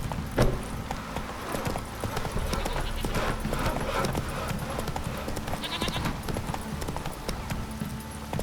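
Horse hooves clip-clop in a rapid, steady rhythm as a horse gallops in the video game The Witcher 3: Wild Hunt, close and continuous, with ambient game sound underneath.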